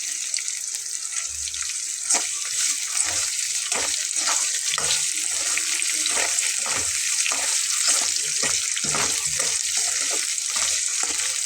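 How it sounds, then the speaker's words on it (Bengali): Eggs lightly frying in a pan, a steady close hiss and sizzle running throughout with soft intermittent stirring taps mixed in. "এটা কিন্তু আমি হালকা করে ভেজে নেব, খুব ডিপ করে ভেজে নেওয়ার প্রয়োজন হবে না"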